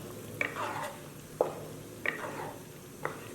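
Blanched mixed vegetables and small river shrimp are stirred in a pan, about four soft spatula scrapes over a faint, quiet sizzle.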